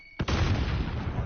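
A thrown grenade in the Warzone video game detonates in a sudden loud blast that rolls on with a dense, rumbling roar for the rest of the moment, no talking.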